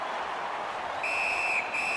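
Referee's whistle during a junior ice hockey game, a sharp high blast arriving midway and then repeating briefly after a short gap, heard over steady arena crowd noise.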